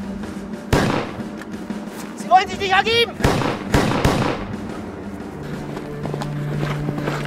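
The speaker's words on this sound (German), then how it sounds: "Darauf fallen mehrere Schüsse." Several gunshots ring out in a dramatized World War I cavalry skirmish, sharp loud bangs spaced irregularly, with someone shouting in between and clattering movement around them.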